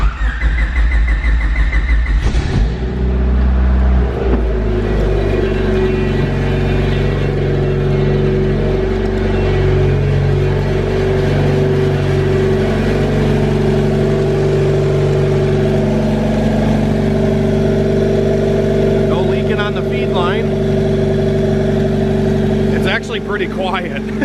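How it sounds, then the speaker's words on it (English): A turbocharged Honda Civic with a B16 VTEC engine cranks and fires up after about two seconds, then settles into a steady, fairly quiet idle that holds for the rest of the stretch, close by with a couple of brief revs near the end. "let's see if this thing starts up and has any leaks"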